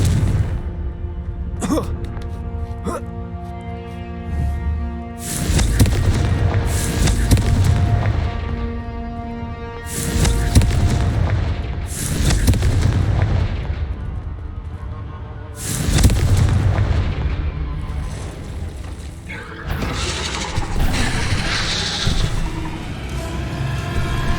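Confringo fire spell explosions in Hogwarts Legacy gameplay: several heavy, booming blasts land about every five seconds over a continuous orchestral game score, loud and close, with no talk.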